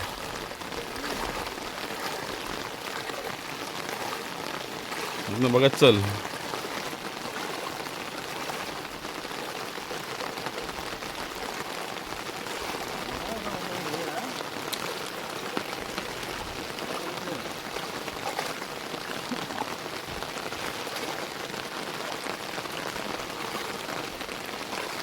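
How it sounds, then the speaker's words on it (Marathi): Heavy monsoon rain pours down in a Konkan village, a steady dense hiss running unbroken through the whole stretch, with one brief louder burst where a voice speaks early on. "पाऊस आणखीन वाढेल"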